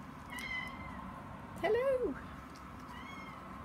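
A cat meows once, close and clear, a short rising-falling cry, while a person speaks a brief greeting in a quiet indoor room.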